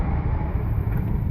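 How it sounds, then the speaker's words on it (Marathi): A car drives through a waterlogged road on the monsoon route to Rajmachi Fort near Lonavala, giving a loud, continuous low rumble and wash of water noise close by, with no voices. "एक गाडी गेलेली आहे"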